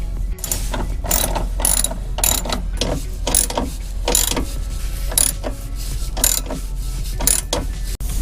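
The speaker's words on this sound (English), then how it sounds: "So let's go ahead and tighten everything." A ratchet wrench clicks rapidly while tightening bolts to install running boards on a RAM truck, with repeated close, loud bursts of ratcheting strokes.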